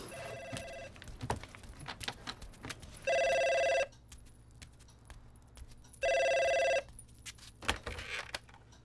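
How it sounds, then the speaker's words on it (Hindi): A telephone bell rings twice in a home setting, each ring a bright, loud burst under a second long, separated by a few seconds of quiet room noise. "जरा जाकर फोन देखोगी प्लीज?"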